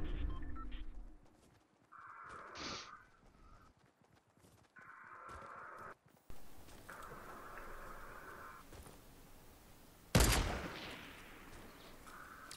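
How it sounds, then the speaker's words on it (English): Fortnite gameplay with in-game tones and ambience, then one sharp, loud gunshot near the end, heard alone with no talk. "Taking random pot shots."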